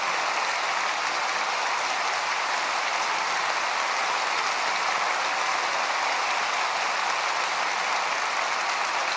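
Church congregation applauding warmly as Singaporean brothers stand during a New Year dawn prayer service, a steady dense wash of clapping that holds evenly for the whole stretch with no voices over it.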